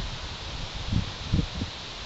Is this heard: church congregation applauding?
no